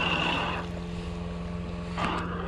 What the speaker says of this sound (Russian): Вот, катер называется Неон.